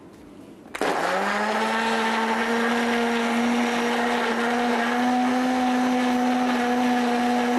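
A blender switches on abruptly and whirs loudly and steadily, blending pineapple with black salt and water in a home kitchen.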